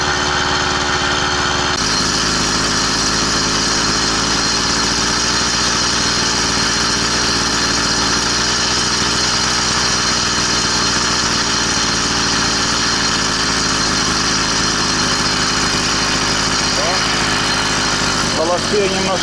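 Small engine of a homemade all-terrain bike being run in, droning loudly and continuously at a steady pace, close by, with a voice speaking over it at times.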